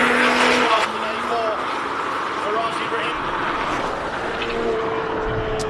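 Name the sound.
Toyota Supra race car missing a gear on hillclimb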